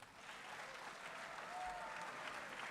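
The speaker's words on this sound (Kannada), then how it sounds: "ಮತ್ತೊಮ್ಮೆ ಎಲ್ಲ ಚಪ್ಪಾಳೆ ಹೊಡಿರಿ ಜೋರಾಗಿ." An audience at an award ceremony claps in a steady, dense burst of applause, fairly faint and distant, lasting the whole short stretch with no talk over it.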